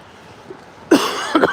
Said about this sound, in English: And I still have my cough.